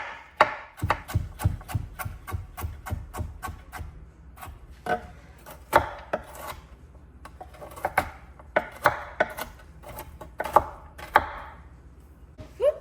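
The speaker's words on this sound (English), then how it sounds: "I'm just going to run my knife through this carrot like this." A knife chops a carrot into chunks on a cutting board for a cookout side dish, giving a close run of sharp, even knocks with brief pauses between bursts.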